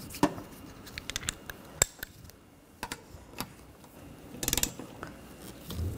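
Nuts being tightened onto the wiper arms of a 2013-2019 Ford Escape with a ratchet, heard as scattered sharp clicks and brief ratcheting bursts close by, with quiet gaps between them.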